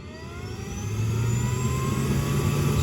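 Exhaust fan of an F1 Ultra laser engraver spinning up, a loud steady whirring hum that swells within the first second and then holds, close by, with no talking.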